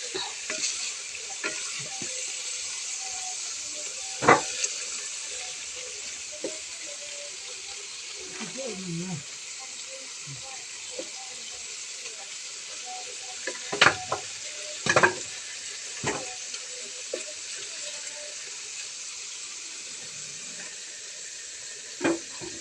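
Adobo with papaya in coconut milk, finished in oil, simmers and sizzles steadily in a pan, with occasional sharp clinks and stirring knocks over the constant frying hiss.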